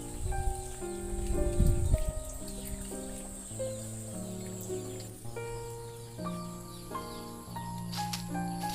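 Steady outdoor rain falls as a continuous soft wash beside a banana garden on a rural footpath, while birds chirp and call repeatedly close by above the rain.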